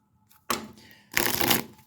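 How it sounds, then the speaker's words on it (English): A deck of horror-themed tarot cards gets a quick shuffle, heard as two short bursts of riffling, papery flutter, close and crisp, without talk. "We're going to do a quick shuffle."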